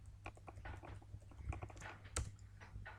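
An account number is typed on a computer keyboard. The key taps come in quick, uneven bursts, close and fairly quiet, with a low hum underneath and no talking.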